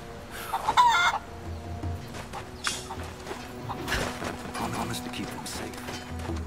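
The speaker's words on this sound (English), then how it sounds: "Two more chickens over here." Chickens in the Rise of the Tomb Raider video game cluck and squawk in short, repeated bursts, fairly close, with someone talking over them.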